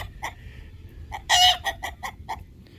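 Chickens cluck in a quick series of short calls, with one louder squawk in the middle, close by against a quiet background.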